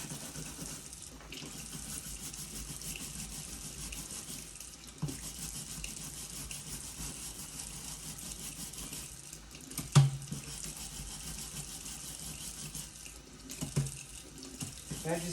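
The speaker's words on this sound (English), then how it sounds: "And I just keep adding a little bit more water into the wire brush here." A kitchen tap runs steadily, water splashing as paint is rinsed out of a brush with a wire brush, a continuous hiss with a couple of brief louder splashes.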